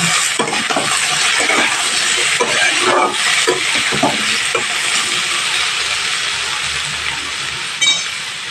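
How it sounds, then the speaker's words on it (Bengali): Potatoes frying in ghee in a pan for Bengali aloo chorchori make a steady, loud sizzle and hiss throughout, with a few scraping stirs and light clatter of a utensil against the pan. "আলুগুলো একটু ঘিরে ভেজে নিতে হবে না ভাজলে তরকারি কোনো টেস্ট হয় না"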